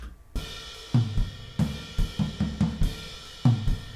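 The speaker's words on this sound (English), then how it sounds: "So when you're listening to drums that sound like this" A raw, unprocessed drum kit plays a loose groove: thudding kick and sharp snare hits in a steady pattern, dry and roomy, with no voices.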